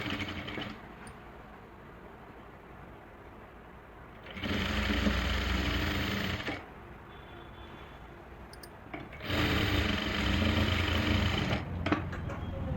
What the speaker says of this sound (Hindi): तो ये मैंने सिलाई लगा ली है कंधे की